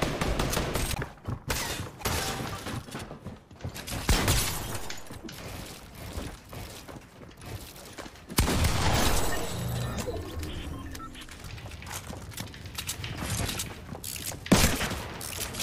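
Rapid bursts of gunfire rattle through a first-person shooter video game match, dense volleys of shots recurring throughout with short gaps, loud and close, with occasional impacts layered in.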